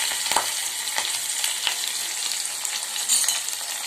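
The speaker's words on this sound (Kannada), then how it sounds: "ಇದು ಸ್ವಲ್ಪ ಕಲರ್ ಚೇಂಜ್ ಆಗೋವರೆಗೂ ಏನು ಮಾಡಬೇಕು, ಎಣ್ಣೆಗೆ ಫ್ರೈ ಮಾಡ್ಕೋಬೇಕು" Chopped onion and curry leaves fry in hot oil for a North Karnataka-style capsicum palya, giving a steady crackling sizzle with a few sharp spatula clicks and stirring scrapes early on.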